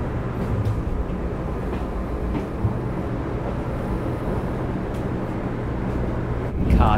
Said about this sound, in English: Welcome aboard the Hello Kitty Shinkansen.